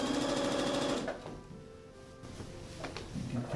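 A sewing machine runs a short back stitch along a pajama bottom inseam: about a second of rapid stitching, then quieter fabric handling and clunks, and a brief restart at the end.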